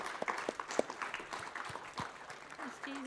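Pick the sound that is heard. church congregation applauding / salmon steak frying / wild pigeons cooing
church congregation applauding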